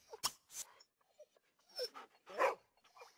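A cartoon dog barks in a few sharp, spaced yaps in The Sims FreePlay mobile game, clear and alone with quiet gaps between.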